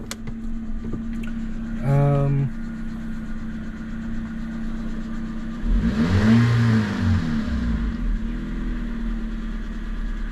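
A Toyota Yaris engine idles with a steady low hum, broken by two short throttle blips that rise and fall in pitch, heard nearby with no talking.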